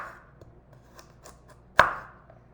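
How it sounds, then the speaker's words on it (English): A knife slices through a vegetable on a cutting board, with faint small taps followed by one sharp, close chop, in a quiet kitchen with no talking. "if it's too big, you can cut them in half"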